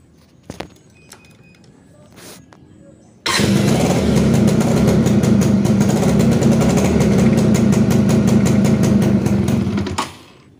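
Yamaha Sigma 2001 motorcycle started on its electric starter: a few faint clicks, then the engine catches abruptly and runs at a steady, loud, smooth idle for about seven seconds before cutting off.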